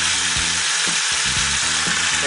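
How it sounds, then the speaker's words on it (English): Oxtail sears in hot oil with a loud, continuous sizzle and crackle, close up, while faint clunks of stirring sound underneath. "We can see that oil sizzling."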